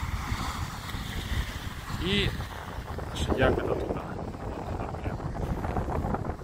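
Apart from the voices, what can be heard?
wind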